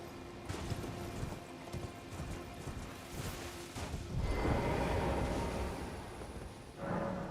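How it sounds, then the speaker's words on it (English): Horse hooves clip-clop in a steady run in the video game Elden Ring, mixed with a continuous game soundscape that swells louder in the second half, with a brief whoosh-like burst near the end. "Horse, man."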